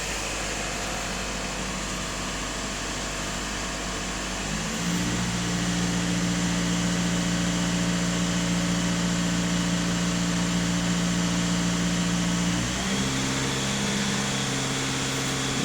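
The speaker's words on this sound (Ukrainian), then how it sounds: "автомобіль сам вибирає собі оберти і перепровіряється" A VW Golf 7 diesel engine idles steadily, then its revs rise by themselves and hold higher for several seconds before settling back down during a particulate filter check, heard up close as a continuous hum with no talking.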